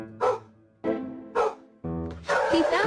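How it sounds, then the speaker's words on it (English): A dog frightened of balloons barks in short bursts, about five sharp yelps and woofs spaced across the moment, close and loud, with the last ones running together into a longer whining bark. "My son didn't understand why he was barking"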